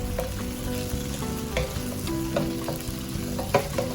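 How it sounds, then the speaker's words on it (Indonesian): Vegetables, including carrots and winged beans, sizzle and crackle steadily as they stir-fry in a hot pan, with occasional scraping and stirring knocks, close up and without any talking. "Ini sayur nih yang agak keras dulu, kita akan masak sekejap."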